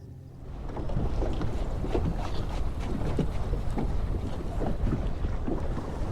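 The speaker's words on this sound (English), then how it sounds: "That wind is getting nasty." Strong wind blows steadily on an open frozen lake during winter ice fishing, buffeting the microphone with a loud continuous roar and low rumble, no talking.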